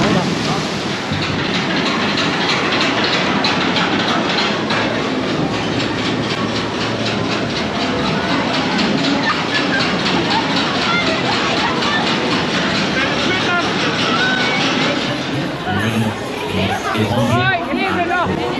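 A roller coaster at the Wolfsburg Schützen- und Volksfest funfair rattles and roars loudly on its track, a dense continuous clatter with riders' voices and chatter mixed in.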